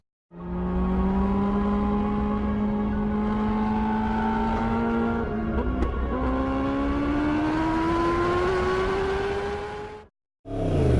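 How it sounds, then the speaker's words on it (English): A 2016 Yamaha R1 anniversary edition motorcycle revs hard while riding, one loud continuous engine note climbing steadily in pitch, dipping once briefly, then cutting out before a short final burst. "So now I've finally got my hands on this beautiful anniversary R1 to take it for a bit of a spin."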